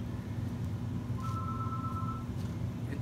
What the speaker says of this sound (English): Ignore the phone that's ringing.